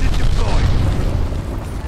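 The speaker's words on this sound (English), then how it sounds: "Enemy's got a glide bomb incoming" A deep, rumbling boom of a glide bomb explosion in the Call of Duty Vanguard shooter, rolling and fading over a couple of seconds.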